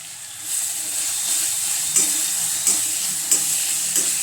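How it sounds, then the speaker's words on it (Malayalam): Sliced onions hiss and sizzle steadily in hot oil in a pan while cooking for a Kerala beef curry, a loud continuous frying crackle broken by a few soft stirring scrapes. "അപ്പോൾ നമുക്ക് ഇതിനകത്തേക്ക് സവോള ഇട്ട് കൊടുക്കാം."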